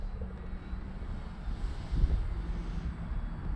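Volantex Ascent RC bush plane with a roughly 59-inch wingspan flying FPV, its electric motor droning low and steady at a distance, swelling slightly midway, with no voices.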